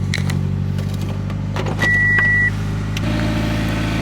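A Mitsubishi Eclipse project car idles steadily up close, its engine a low, even hum, with a brief higher tone and faint clicks over the running motor.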